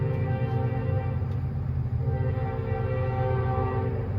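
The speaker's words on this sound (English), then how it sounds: "Maybe we'll wait for this train to get out of my way" A train rolls past nearby with a continuous heavy rumble, while its horn holds a sustained chord over the rolling noise throughout.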